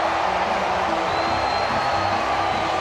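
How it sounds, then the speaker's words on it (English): Cricket crowd cheering at a Super Over match, a steady, dense roar of many voices holding level throughout with no distinct peaks, heard from a distance across the ground. "Crowd loves it."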